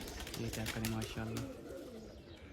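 Pigeons coo in a low, repeated rhythm around a rooftop while someone talks over them in Hindi.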